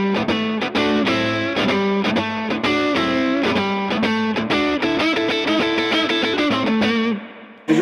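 Electric guitar played through a tube amp alone, with a little reverb, in a church setting: a steady, loud run of distorted chords and sustained notes lasting about seven seconds, then cut off abruptly.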